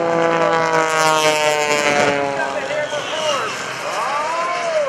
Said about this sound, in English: John flying the Panzl, that aircraft powered by a Lycoming Iowa 540